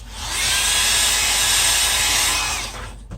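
A hair dryer blows steadily for about three seconds, drying alcohol ink on a mason jar, loud and close with a constant whooshing whine before switching off.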